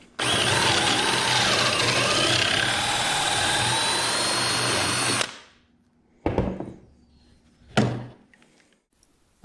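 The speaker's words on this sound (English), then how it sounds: "Now I'll just snap this in my drill, and I'm going to follow those 2 pocket holes through with this bit." Power drill with a 1/2 inch bit boring through walnut at pocket holes, a loud sustained whine for about five seconds, then two brief bursts of drilling.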